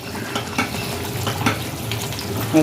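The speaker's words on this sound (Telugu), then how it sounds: "కొంచెం కొత్తిమీర వేసి కలుపుకుందాం" A spoon stirs spicy mutton curry in a pan after fresh coriander goes in, with soft scraping, light clinks against the metal and a low sizzle underneath, close and steady, with no talking.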